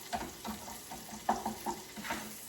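Onions cook in butter with a bay leaf in a pan, giving a quiet, close sizzle with soft irregular stirring taps and small crackles.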